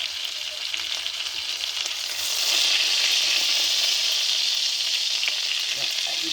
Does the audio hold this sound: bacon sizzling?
yes